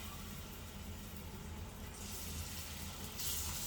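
Plantain slices sizzling in hot oil in a pan on a stove, a steady close hiss that swells louder toward the end, with no talking.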